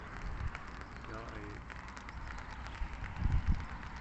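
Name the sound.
light rain falling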